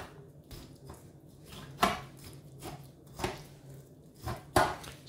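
A knife cuts into a raw pork joint to core the meat, giving quiet, scattered chopping thuds and squishy cuts at an irregular pace.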